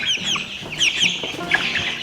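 A pet hen clucks close by in a short run of bright, repeated clucks and squawks, loud and clear with no talking over them.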